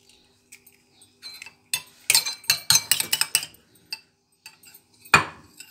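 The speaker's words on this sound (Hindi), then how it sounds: "मैं अंडा फेंट रही हूँ" An egg being beaten with a utensil in a bowl for potato bread rolls, bursts of quick clinking and tapping strokes against the bowl separated by short pauses, close and clear.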